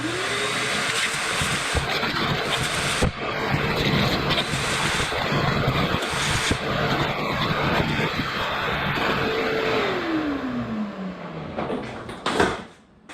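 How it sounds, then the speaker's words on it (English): Shop vac runs steadily throughout, a loud continuous whine and rushing airflow as mouse debris is sucked up, with bumps and knocks of the nozzle and a falling motor tone as it winds down near the end. "clean up any mouse debris with my shop vac before I start putting this back together"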